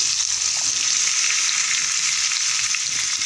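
Green mango pieces fry in hot oil with mustard seeds, fenugreek and curry leaves for a mango pickle, giving a steady, dense sizzle that stays close and even throughout with no talking.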